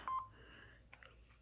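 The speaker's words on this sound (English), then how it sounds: "As you see, I have the flip tone on here." Faint electronic flip tone from a Samsung flip phone, an SGH-T339 or SGH-T639, gives a quick pair of short beeps followed by softer chirps over quiet background hiss.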